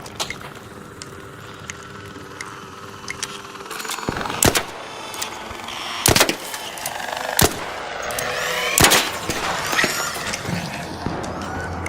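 In the video game Arc Raiders, bursts of gunfire strike a Hornet drone, with several loud, sharp shot clusters spread across the clip over a busy background of game noise.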